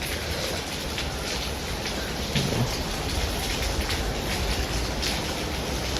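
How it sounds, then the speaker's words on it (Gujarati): Heavy rain pours down at night during a storm, a dense steady roar of drops on surfaces with a low rumble beneath, continuous and close throughout. "વરસાદ એ થઈ ગયો ચાલુ"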